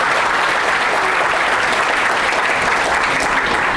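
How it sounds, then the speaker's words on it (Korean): A large audience at a book concert claps continuously and loudly, a dense even wash of applause filling the room without a break. "이분들께 다시 한번 큰 박수 부탁드리겠습니다"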